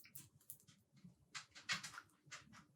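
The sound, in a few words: dog whimpering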